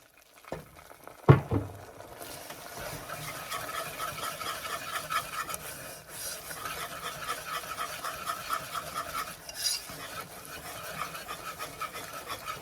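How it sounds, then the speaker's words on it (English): Brown sugar caramel icing is stirred in a hot pan until the sugar crystals dissolve, a soft, continuous scraping and swishing with faint bubbling and an occasional clink of the spoon, fairly quiet and steady. "You got to keep stirring this until all of these crystals dissolve."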